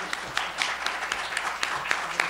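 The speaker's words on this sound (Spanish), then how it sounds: "damos un aplauso de bienvenida a Carmen." Scattered applause from a small audience, a handful of hands clapping unevenly at moderate volume for a couple of seconds.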